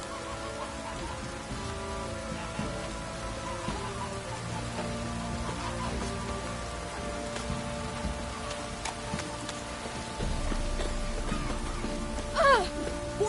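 Rain in The Witcher 3 on PS4: soft, steady in-game rainfall under layered ambient music tones, with a brief louder swell near the end.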